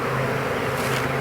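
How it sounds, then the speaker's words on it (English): Honey bees buzz thickly in an open beehive, a steady close droning hum from many worker bees with no talking. "all these that we're seeing here are just the worker bees"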